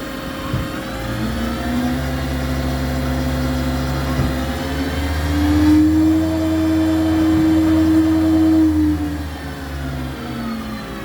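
A Mori Seiki SL-15MC CNC lathe spindle runs up toward 5,000 RPM in steps, a steady mechanical whir and hum climbing in pitch stage by stage, loud and close with no talk.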